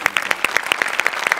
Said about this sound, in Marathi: एकदा जोरदार टाळ्या ह्यासाठी.